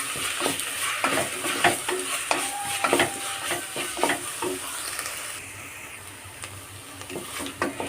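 Ginger, garlic and green chilli frying in a pan while being stirred: a continuous hissing sizzle broken by rhythmic scraping and tapping of the spoon, close up, easing slightly toward the end.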